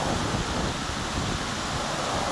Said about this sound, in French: Il y a un souffle puissant, le courant lui-même est puissant